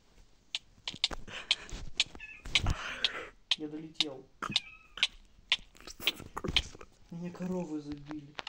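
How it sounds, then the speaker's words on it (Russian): A cat in a skyblock game meows several times, short tonal cries rising and falling amid sharp clicks and taps, with voices also present. "Выпусти кота, Никита."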